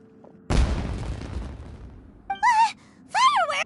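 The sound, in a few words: fireworks exploding in Genshin Impact video game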